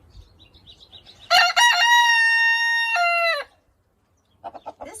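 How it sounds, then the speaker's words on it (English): A white Silkie rooster on a farm sanctuary lets out a single loud, close cock-a-doodle-doo, a bright sustained crow between quiet pauses, followed by a few soft clucks. "He's a Silkie Rooster."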